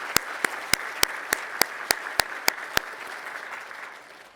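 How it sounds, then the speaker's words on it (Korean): Ten sharp, evenly spaced claps ring out in a church, close and loud, each a crisp snap with a little room echo, then fading into quiet background. "힘차게 박수로 함께 해주시기 바랍니다"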